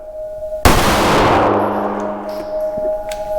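A Ruger LCP MAX .380 pistol fires a single sharp, loud shot a moment into the quiet, followed by a ringing, decaying echo that fades over the next few seconds.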